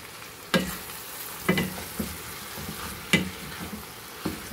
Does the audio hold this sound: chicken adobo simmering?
yes